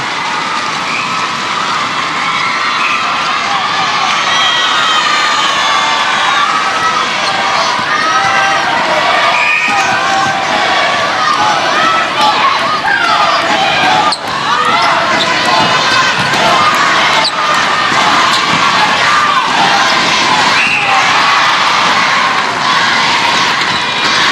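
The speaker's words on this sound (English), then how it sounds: "Listen to the crowds." A packed arena crowd at a Malaysia versus Singapore netball final roars and cheers without a break, a dense, loud wash of voices with scattered shouts rising above it.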